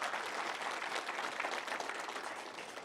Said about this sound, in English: Can you give a hand of applause for April and for her help here today?